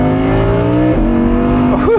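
A 620-horsepower Audi R8 accelerates hard, its engine note loud and close, climbing in pitch, dipping briefly at a gear change, then climbing again, with no talking.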